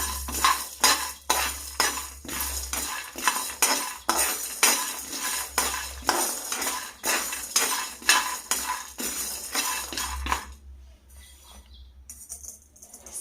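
Coriander seeds, cumin and fenugreek roast in a pan over low flame while a metal spoon stirs them, giving rapid, rhythmic scraping clinks close by that stop near the end.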